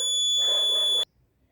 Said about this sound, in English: Okay, it will give continuous alarm